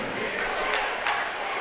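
A home crowd of Cathedral fans shouts and roars at a girls' city-final basketball game, a loud, steady wall of voices with a couple of sharper surges of yelling.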